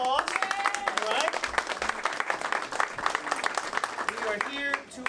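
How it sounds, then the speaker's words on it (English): A crowd at a campaign kick-off for a Whitehall city treasurer candidate claps and cheers steadily, with voices and whoops mixed into the applause. "Give yourselves a round of applause"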